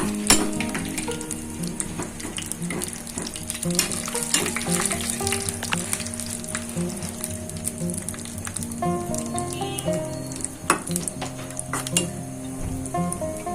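Cashew nuts and almonds frying in ghee, stirred often: a dense, continuous sizzle and bubbling heard close, with repeated scraping and light clinks of a spoon against the pan.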